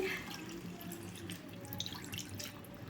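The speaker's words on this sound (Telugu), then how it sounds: "ఒక గ్లాస్ నిండుగానైతే పోసాను" A full glass of water pours steadily into a cooking pan for a few seconds, a continuous splashing stream with a faint trickling edge, close by and with no voices.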